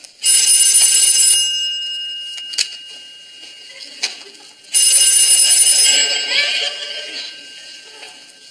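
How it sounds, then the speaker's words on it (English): A telephone rings in a department store sitcom, two long loud bursts of bright bell ringing separated by a quieter stretch with faint clatter, heard close and alone without talk. "That's the phone."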